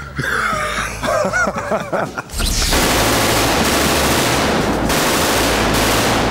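Heavy automatic gunfire from a large weapon during film weapons training, a sudden loud sustained burst that follows a few seconds of voices and laughter, roaring on to the end.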